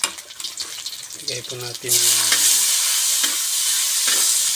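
Vegetables for Ilocano pakbet hit a hot pan and burst into a loud, steady sizzle partway through, with stirring taps beneath, following a stretch where a voice talks.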